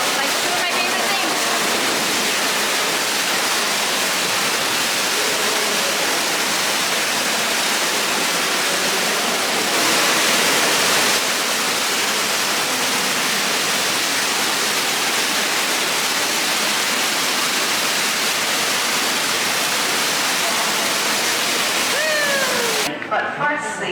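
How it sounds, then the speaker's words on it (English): An indoor waterfall pours inside a cave, a steady, loud broadband rush of falling water that continues without a break, with a brief surge partway through and a small disturbance near the end. "It's got indoor, in-cave waterfalls."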